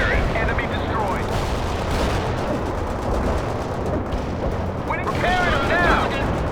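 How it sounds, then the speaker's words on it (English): Napalm strike in World in Conflict, a dense continuous roar of fiery explosions and crackling blasts, loud and sustained throughout, with battlefield radio voices heard over it. "Napalm delivery order. Stay clear of target area."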